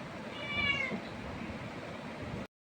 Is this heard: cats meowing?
yes